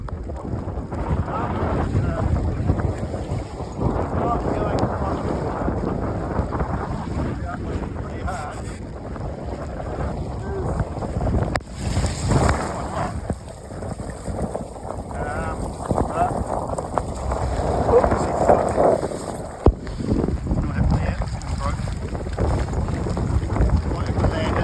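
Strong wind buffets an outrigger sailboat under full sail, a loud, steady rushing roar with gusty bursts, water noise and the odd knock from the boat.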